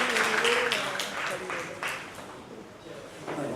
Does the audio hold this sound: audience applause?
yes